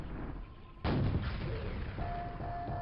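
Enemies firing in the video game Quake: one loud sudden gunshot-like blast bursts in after a quieter stretch, followed by a sustained rumbling tail and a faint electronic tone.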